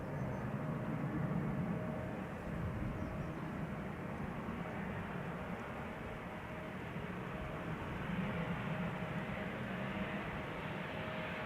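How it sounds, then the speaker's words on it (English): Embraer airliner from Cardiff arriving at Schiphol's Polderbaan in warm weather: a steady, distant jet roar with broad rumble and hiss, sustained throughout, with no talk. "another Embraer coming in from Cardiff"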